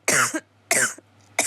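Three sharp, close coughs come in quick succession, each a short harsh burst, with brief silences between them.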